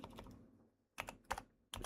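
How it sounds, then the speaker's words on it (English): Quiet clusters of computer keyboard typing come in short bursts of rapid clicks, separated by brief pauses. "Having a hard time typing."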